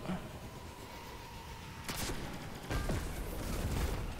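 Bursts of gunfire from the Destiny video game ring out in a continuous layered background, with sharper, louder volleys arriving partway through over a constant din.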